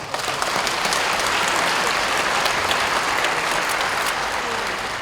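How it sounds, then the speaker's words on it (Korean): Sustained audience applause fills a hall at a national women's convention, a dense, even wash of clapping from a large crowd lasting several seconds with no pause. "서로 함께 힘껏 격려의 박수를 한 번 더 보내주십시오"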